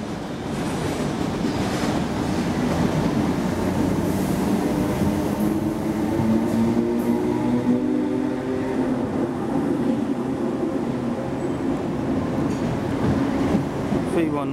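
A Thameslink class 319 electric train departs Farringdon station bound for Luton, its steady rumble and rising motor whine sustained close by on the platform.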